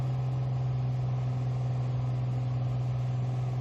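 A Piper Turbo Arrow's piston engine in Microsoft Flight Simulator holds a steady, loud, even drone with a strong low hum and no change in pitch.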